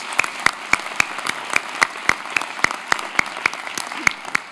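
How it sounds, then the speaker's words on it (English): Applause for Joyce, founder of City Harvest, at a national awards ceremony: sharp, evenly spaced claps stand out crisply over a thin wash of wider clapping, steady for the whole stretch with no voices. "Let's give a big round of applause for Joyce"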